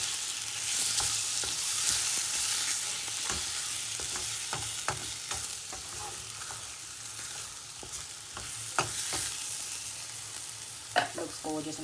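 Curry paste for a prawn curry stir-fried in a pan, with a steady loud sizzle and scattered scraping and clinking strokes of a spoon or spatula, plus a brief clatter toward the end.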